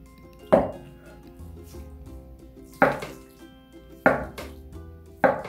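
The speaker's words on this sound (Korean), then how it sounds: "그 다음에 두부는 반쯤 잘라서" Knife cutting tofu into squares on a board while making seafood tofu cheonggukjang, four sharp separate knocks spaced about a second apart, close and fairly quiet with a faint background hum.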